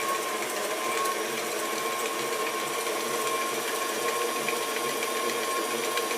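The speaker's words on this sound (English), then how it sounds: "so I'm just creaming together the butter and the sugar" An electric mixer creaming butter and sugar for pumpkin spice cupcakes: a continuous close mechanical whir with a steady rattling, gear-like texture, even and unbroken throughout.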